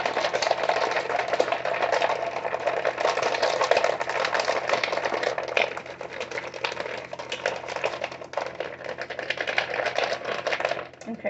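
Iced coffee rattles and sloshes inside a lidded container shaken hard and continuously, a dense, loud churn of ice and liquid that eases slightly toward the end.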